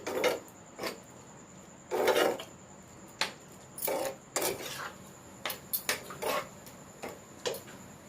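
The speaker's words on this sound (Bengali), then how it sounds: "এই সেদ্ধ করে রাখা সবজিগুলো আমরা এক এক করে এই মশলার মধ্যে দিয়ে ভালো করে কষিয়ে নেব।" Boiled vegetables are stirred into a masala in a pan, giving a series of irregular scraping and rubbing strokes of a spatula, fairly quiet and close, with short gaps between strokes.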